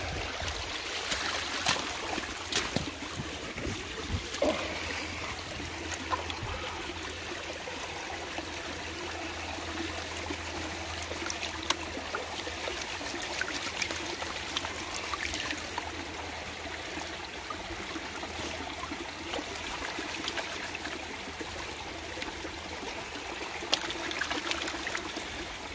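Water sloshes and trickles steadily as sluice material is panned by hand in a pan of water, a continuous close swishing with occasional splashes and no talking.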